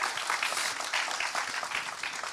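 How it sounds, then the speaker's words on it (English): An audience at a climate justice and human rights event during COP26 gives a short round of applause, dense continuous clapping that stays moderately loud for a couple of seconds. "This is where you do a little round of applause, guys."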